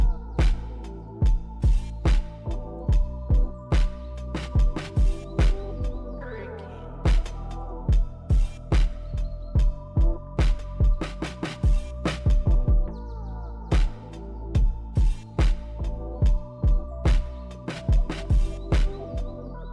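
Full hip-hop beat for Seedhe Maut's "W" thumps with heavy sustained bass and punchy, regularly spaced drum hits under a looping melodic layer with chirpy high accents, steady and loud throughout.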